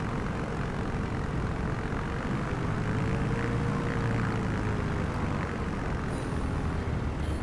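Microsoft Flight Simulator 2024 airplane taxiing, its engine a steady droning hum with a faint rising tone, continuous and moderately loud throughout.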